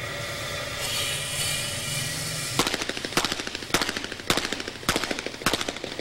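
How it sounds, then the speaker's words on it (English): Rapid-fire shots from an action pistol at the 1990 NRA Bianchi Cup National Action Pistol Championship, six loud sharp reports about half a second apart, ringing over steady outdoor background noise after a quieter lead-in. "Six shots in 6 seconds."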